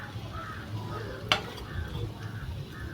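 Potatoes frying in a pan, first over high flame and then low, with a steady close sizzle, soft stirring scrapes and one sharp utensil clink partway through.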